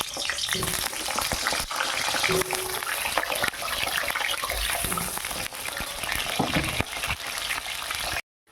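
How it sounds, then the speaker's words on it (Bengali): Steady, crackling sizzle of potatoes frying in hot oil, loud and close, continuing throughout before cutting off abruptly at the end. "তেলটা গরম হয়ে গেছে, আলুগুলো ছেড়ে দেবো"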